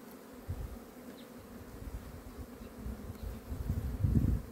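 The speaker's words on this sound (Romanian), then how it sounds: "Este albinuța aici." Honeybees buzz at an opened hive frame next to the divider, a low steady drone with small swells and a closer, louder burst near the end, no voices.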